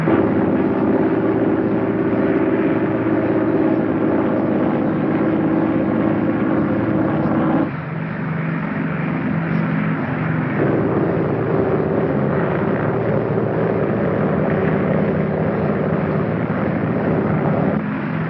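Aircraft engines roar steadily through takeoff and climb, a loud continuous drone heard from close by that shifts slightly in tone partway through, with no talking.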